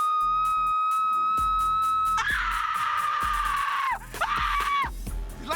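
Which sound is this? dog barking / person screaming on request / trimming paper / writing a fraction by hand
person screaming on request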